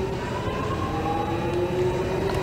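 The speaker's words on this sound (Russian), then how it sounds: "Поезд прям в отеле едет!" A train rumbles with a steady, droning roar as it runs right through a hotel in a horror video game. Faint tonal whines ride over the noise, and no one talks.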